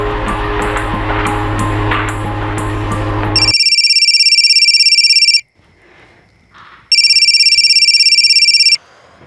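A telephone rings unanswered in a Maharashtra crime drama: after a noisy stretch, two long, loud electronic ring bursts sound with a short gap of near silence between them.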